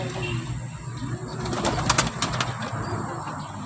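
Pigeons coo softly amid background noise in Tacloban, with a brief burst of fluttering wings in the middle.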